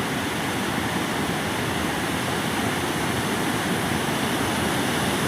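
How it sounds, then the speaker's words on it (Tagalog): Strong, gushing water pouring through Old Wawa Dam, a dense, constant broadband roar with no pauses, close and loud, heard alone without voices. "Lakas ng bulwak ng tubig."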